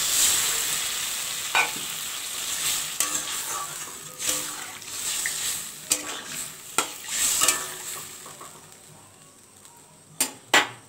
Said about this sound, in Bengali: এবার এর মধ্যে আমি গরম জল অ্যাড করে দিচ্ছি